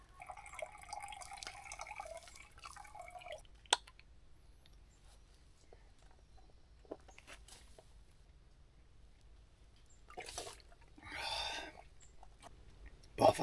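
Quiet close-up sounds of someone drinking water, with a few gulps and slurps near the end and soft drips and rustles before.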